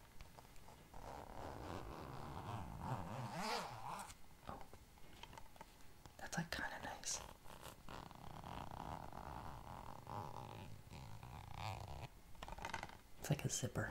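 Fingernail scratching across the ridged lenticular plastic front of a Disney movie case, quiet zipper-like rasps and rubbing in bursts at close range, with soft handling noises.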